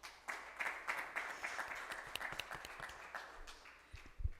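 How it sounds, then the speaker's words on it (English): Applause from a conference audience at a net zero emissions digitalization event, scattered, fairly faint clapping that swells and thins irregularly over a few seconds. "Clap again."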